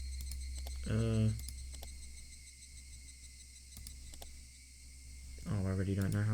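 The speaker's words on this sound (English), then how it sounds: "is it me or the cicadas are so much more louder?" Cicadas drone in the game Higurashi as a steady high-pitched buzz under game audio, with two short bursts of voiced sound breaking in.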